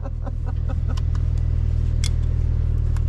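Porsche 997.1 engine running steadily on a race track, a loud continuous low drone filling the whole stretch with a few faint background clicks and no speech over it.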